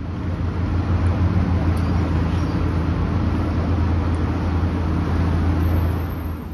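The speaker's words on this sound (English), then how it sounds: "Here comes a bus right now." A Pace bus in Chicago rumbles up to a stop with a steady low engine drone and faint road noise, loud and close and easing slightly at the very end.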